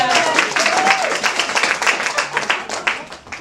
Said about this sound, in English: let's give Philip a applause because he's newly engaged